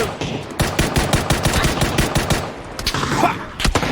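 Rapid automatic gunfire sounds in the battle royale game PUBG: dense bursts of loud shots, a short pause, then more scattered shots, up close and continuous.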